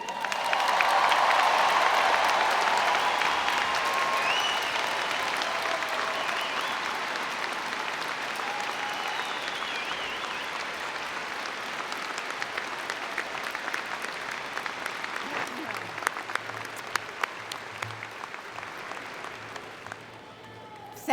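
A large audience at a university commencement ceremony applauds in a loud, dense, sustained wave of clapping that carries on for about twenty seconds and slowly thins and softens toward the end.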